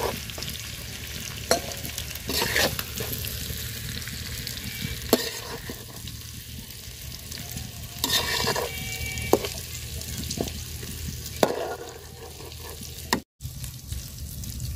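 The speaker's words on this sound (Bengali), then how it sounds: "মিষ্টি কুমড়াগুলো আমি ভাজা নিছি তেলে সুন্দর করে" Sweet pumpkin pieces frying in oil left from fried fish, a steady close sizzle with occasional utensil knocks and stirring clicks.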